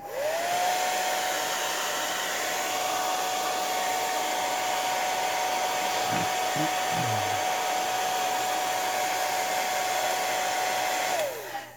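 A hair dryer blows steadily and close for about eleven seconds, drying paint on a handmade cork coaster, with a brief clunk of handling partway through before it switches off.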